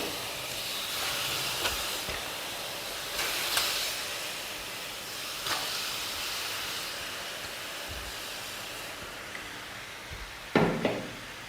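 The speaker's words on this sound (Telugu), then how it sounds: "నేను ఇక్కడ ఇంత వేడి గిన్నె మీద నేను వేస్తున్నాను చికెన్" A steady loud sizzling hiss as chicken is placed in a very hot dry pan with no oil or water, with a few brief clatters and a sharper clunk near the end.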